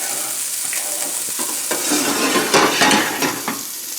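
Ingredients sauteing in a pan with leftover bacon fat, a loud continuous sizzle close by, joined by a few scraping stirs of a utensil toward the end, no speech.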